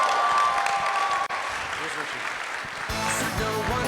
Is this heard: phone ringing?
no